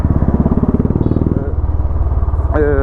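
Royal Enfield Bullet 350 single-cylinder motorcycle running close by, a loud low thumping exhaust beat that steadies into a faster even pulse, with a brief higher-pitched tone near the end.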